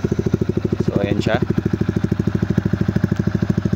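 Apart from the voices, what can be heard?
Yamaha R15 V3 with SC Project S1 exhaust idling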